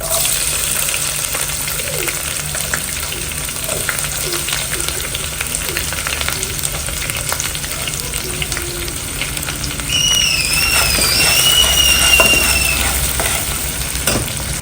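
Onions dropped into hot oil with spices sizzle steadily in a pan, a loud, close, continuous frying hiss with faint stirring scrapes throughout.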